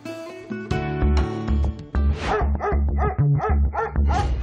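A Belgian Malinois barks repeatedly in a quick series of sharp, close barks, preceded by a brief whine.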